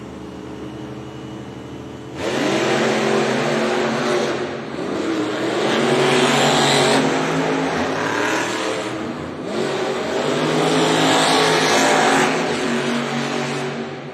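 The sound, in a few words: monster trucks racing head-to-head in an arena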